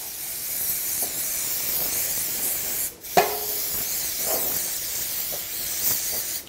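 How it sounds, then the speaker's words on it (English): Cooking spray hisses steadily from a can into a medium to small baking pan, a continuous close spray broken by a brief pause and a clatter midway. "You get a medium to small size baking pan and you spray and"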